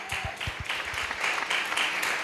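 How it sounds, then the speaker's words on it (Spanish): A church congregation applauds loudly together, a sustained wash of many hands clapping at moderate distance, with a few low thumps under it early on. "Dale un fuerte aplauso a Dios."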